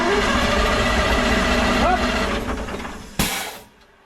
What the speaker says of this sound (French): Et tu restes appuyé, tu vas donner des coups de démarreur.